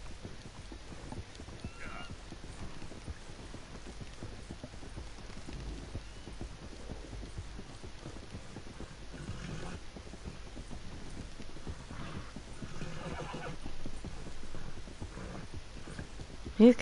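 Hooves clip-clop steadily as a horse trots and gallops in Red Dead Redemption 2, striking objects along a railway line, with a whinny near the end, all under continuous background game noise.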